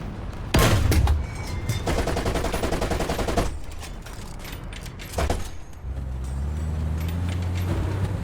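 Rapid bursts of .50 cal machine-gun fire from a vehicle-mounted gun in War Thunder, loud and close, with a long stuttering burst, a pause, then another burst over a steady engine rumble.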